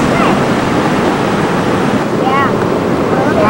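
Sea waves and moving water currents at a beach wash in a constant loud rush, buffeted by wind noise, with faint distant voices and bird calls.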